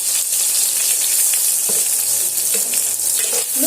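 Salted tomatoes fry in a hot pan with a steady, loud, close sizzle throughout, broken near the end by a few soft scrapes as they are stirred.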